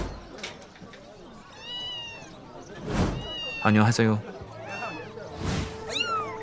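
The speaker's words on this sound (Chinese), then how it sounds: "好可爱的小猫啊！" A kitten in a pet shop gives several high, rising meows close by, scattered across the clip, while people talk around and between the cries.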